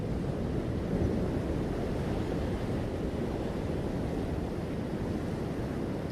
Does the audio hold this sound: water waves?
yes